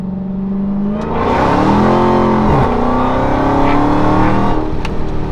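A Dodge Hellcat pulls hard in second gear from a 25 mph roll, its loud engine note climbing steadily in pitch with a brief dip midway, heard close and alone.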